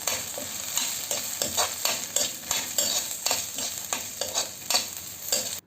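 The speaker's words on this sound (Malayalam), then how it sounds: "ഇനി നമുക്ക് എല്ലാം കൂടി ഒന്ന് ഇളക്കി കൊടുക്കാം." Green chillies and curry leaves are stirred and sizzle in a frying pan for a Kerala tapioca curry. A spoon scrapes in a quick repeated rhythm over steady, close frying, with no talking.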